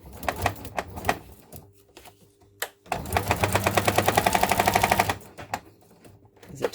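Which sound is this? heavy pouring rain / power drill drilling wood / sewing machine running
sewing machine running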